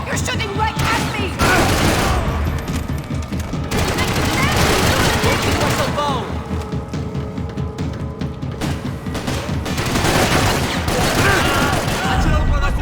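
Sustained gunfire in the shooter game Max Payne 3, with dense overlapping shots and bursts running almost continuously at a loud level, mixed with voices and shouting in the background.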